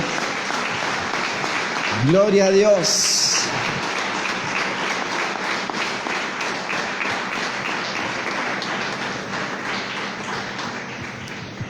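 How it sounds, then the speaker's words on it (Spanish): A church congregation applauds continuously during a sermon, a dense, steady wash of clapping that carries on for a long stretch while a voice briefly exclaims. "¿Te animás de darle un fuerte aplauso al Señor?"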